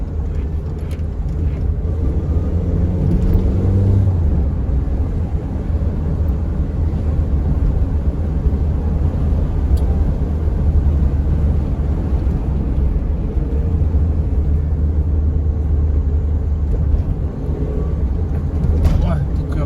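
A car with 83,075 km and a suspected worn driveshaft drives on a test run, its steady low engine and road rumble filling the cabin with little change throughout.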